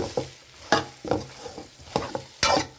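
Dried fish curry with drumstick and brinjal being stirred in a pan, a series of separate scraping stirs with a soft sizzle underneath, close and fairly loud, with no talking.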